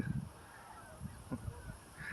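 Outdoors, a bird honks several times in short, moderately loud calls spaced irregularly, goose-like, with faint background ambience and no talk over them.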